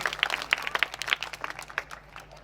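At a stage show, an audience claps in response to a donation announcement. The clapping is loose and uneven, with distinct sharp claps scattered over a thinner patter and a low hum underneath.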